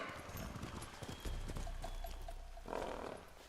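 Horse hooves clip-clop in a steady rhythmic gait in the video game Ghost of Tsushima, fairly loud and close over a rumbling, rustling outdoor ambience.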